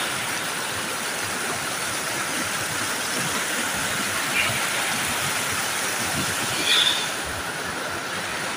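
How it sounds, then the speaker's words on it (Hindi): Cold mountain river water rushing over rocks in Chatral Valley, Pakistan, a steady loud broadband roar that holds unbroken throughout, with no voices. "क्या ज़बरदस्त पानी की आवाज़ आ रही है।"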